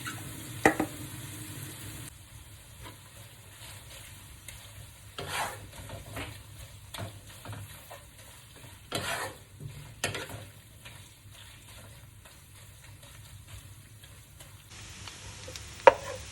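Chicken stir-fries in a pan with a low sizzle, punctuated by scattered scrapes and clinks of stirring, close and fairly quiet with no talking.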